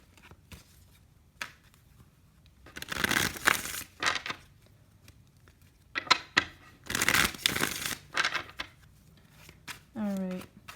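Tarot cards being shuffled in repeated bursts of crisp riffling and flapping, fairly close, with quiet pauses between and a brief voice near the end.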